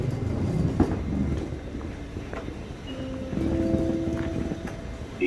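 A regional RE8 train from Stuttgart Hauptbahnhof pulls into a German station platform, with a steady rumble, rhythmic wheel clatter and a sustained brake squeal building toward the end.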